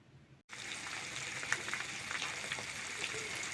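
Silver carp fillet, fish head and pork cracklings sizzle steadily in a frying pan, with a continuous crackling hiss and scattered pops starting after a brief quiet moment at the outset.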